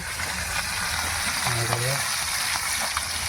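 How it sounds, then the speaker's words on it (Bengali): Fish fries in a 1972 wok over a wood fire, a steady close sizzle with a brief voice heard partway through. "মাছ ভাজা হচ্ছে"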